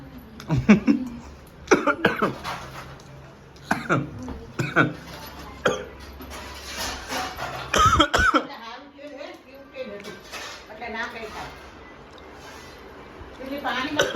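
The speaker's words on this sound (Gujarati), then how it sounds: "આ તેલના લીધે ખાંસી આવવાનું ચાલુ થઈ" Repeated harsh coughs in short bursts, close and loud, scattered among stretches of speech and throat noises.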